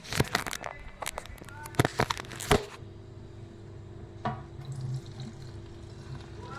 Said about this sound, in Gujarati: હવે આપણે એમાં ભરશી પાણી